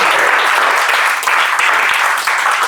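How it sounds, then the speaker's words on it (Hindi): Audience applause fills a packed auditorium during a Hindi comedy poetry show, a loud, steady wash of clapping with no talk over it and a few brief swells. "बजाओ ताली इस बात पे।"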